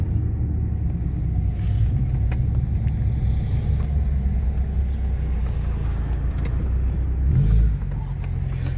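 Inside a Fiat Tipo 1.4 on a test drive after maintenance with newly fitted brakes: a steady, close low engine and road rumble runs throughout, with a brief swell of revving near the end.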